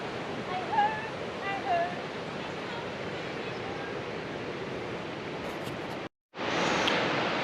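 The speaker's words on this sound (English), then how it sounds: "We're at St. Columbia Falls" Steady rushing roar of St Columba Falls in Tasmanian rainforest fills the scene, broad and continuous, with faint bird chirps above it and a brief cut near the end.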